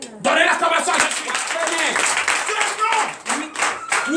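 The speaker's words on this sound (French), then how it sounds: "Donnez l'acclamation à Jésus." Congregation clapping during a morning prayer service at a church in Benin, steady dense clapping mixed with loud singing or shouting voices throughout, close and energetic.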